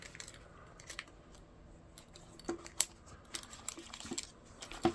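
Sharp snips and clicks come at irregular intervals as slits are cut in leather for a belt loop on a leather EDC organizer. The sounds are close and faint, with no talking.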